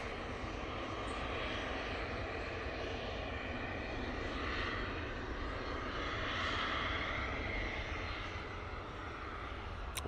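A plane departing Manchester Airport for Debrecen on a frosty day produces a steady, loud engine roar that holds for about ten seconds without letting up.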